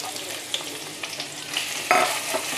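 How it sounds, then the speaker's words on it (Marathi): Sliced onion fries and sizzles in a pan with whole spices, a steady hiss broken by stirring scrapes and small clatters up close. "आता आपण यामध्ये कांदा घालूया स्लाईस केलेला।"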